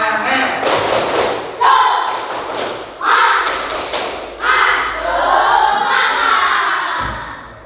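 Classroom of fifth-grade children doing a rhythmic spirit clap, loud bursts of group clapping and thumping in repeated patterns across the room, with children's voices shouting along.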